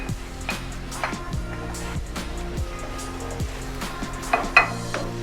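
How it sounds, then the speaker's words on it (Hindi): Garlic, ginger and green chillies hitting hot oil in a karahi, a soft continuous sizzle under music-like tonal sweeps, with a few metallic clinks of a spoon against the pan near the end. "इसको हल्का सा फ्राई करेंगे।"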